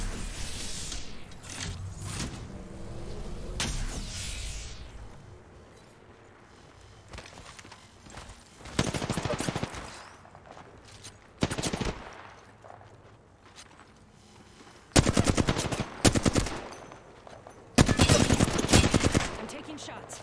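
Video game gunfire in a shooter, arriving as several separate bursts of rapid shots between quieter stretches of game ambience, loud and close when they hit.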